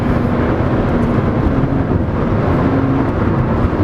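A 2013 Scion FR-S runs at full throttle with traction control off, heard as a loud, steady engine drone with a sustained low tone and road rumble throughout.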